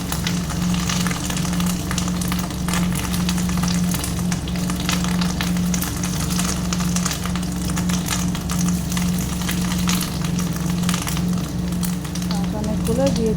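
Fish roe fritters sizzle steadily in hot oil, a dense, continuous frying hiss that stays fairly loud throughout as pieces are dropped in one at a time.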